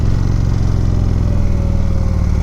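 An Indian motorcycle engine rumbles loud and close through a corner, a deep steady throbbing drone with a faint rising whine.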